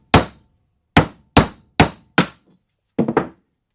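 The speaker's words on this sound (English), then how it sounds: "Simply take a mallet and drive the seal out." A mallet hammers the rear oil seal out of an Atomic 4 marine engine, striking through scrap 2x4 wood and a 1.5-inch pipe in five loud, evenly spaced blows, then a quick triple hit.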